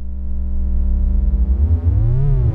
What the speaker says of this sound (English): send the new oscillator's square wave to its left mono input. Now, push the reverb's decay and mix